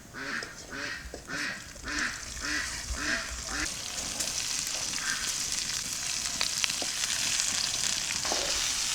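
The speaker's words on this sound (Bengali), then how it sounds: "না না হলুদ, চিংড়ি মাছ দিয়ে দিচ্ছি" Prawns frying with turmeric in a pan over a village kitchen fire, a steady close sizzle that grows denser and louder, with a burst of rhythmic, quack-like bubbling at the start.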